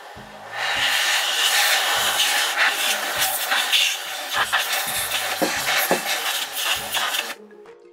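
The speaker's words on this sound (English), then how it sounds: "if you blow directly from the front to the back, you'll be blowing that lint and fuzz within the machine" A handheld air blower hisses steadily as it clears lint and fuzz from inside a Baby Lock longarm quilting machine, a loud, close rush of air that varies slightly in strength and cuts off abruptly near the end.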